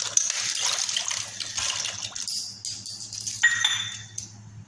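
Cooked pasta is poured from a pan into a bowl, with wet sliding splashes, a few clinks of metal against glass and a brief gush, heard close in a home kitchen.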